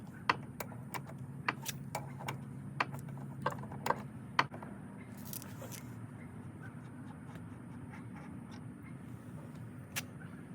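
A 1/2-inch ratchet turns on a trim seal nut of a Yamaha 225 Vmax outboard, giving faint, irregular clicks over a low steady hum.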